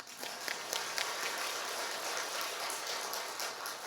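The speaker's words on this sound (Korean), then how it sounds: "이쯤 되면 여러분 박수 치셔야 돼요." A church congregation at a Sunday worship service in Korea applauds, dense steady clapping filling the room with a few sharper claps standing out.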